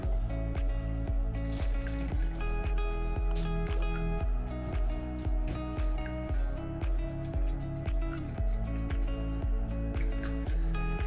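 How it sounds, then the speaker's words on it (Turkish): Warm water pours into a dough bowl holding sugar and yeast, a steady close trickle with rhythmic splashing throughout, and no talking. "Ilık suyumu ekliyorum."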